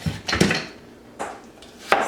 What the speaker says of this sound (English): let's cut our onion.